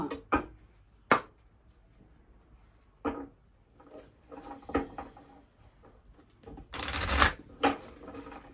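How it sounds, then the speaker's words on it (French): Oracle cards shuffled by hand at a table, with a string of short riffles and slaps, one dense burst near the end, close and soft, and no talking. "je vais prendre une carte de l'oracle enchanteur"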